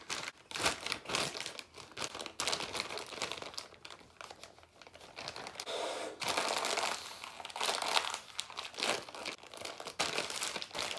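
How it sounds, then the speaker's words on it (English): A plastic bag is crumpled and crinkled around a paintbrush for a painting job, with continuous close, loud rustling and crackling in irregular bursts throughout. "I'm just gonna use this plastic bag instead."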